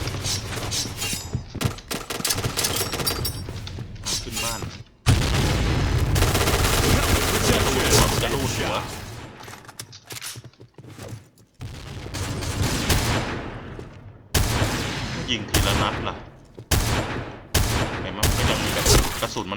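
Video game gunfire from a Noveske N4 rifle in Point Blank: loud, close bursts of rapid automatic shots in several runs separated by short gaps, with dense game action and occasional voices behind.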